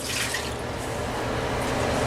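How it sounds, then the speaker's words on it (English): Water pours steadily into a pan for brown gravy, a continuous close rushing splash with no break and no voices. "add a cup of water."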